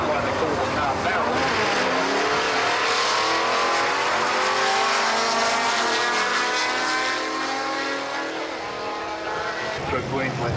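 A rotary-engined Mazda drag car at a 1990s drag meeting at Eastern Creek roars continuously, its buzzing engine note rising and sweeping as it passes, loud and steady with a commentator talking over it.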